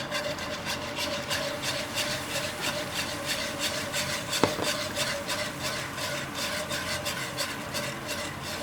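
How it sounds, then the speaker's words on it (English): Whole milk whisked into gravy in a pan, a steady rapid scraping and swishing rhythm of the whisk against the pan, close and continuous, with one brief sharp knock partway through. "And I want to whisk when I do it."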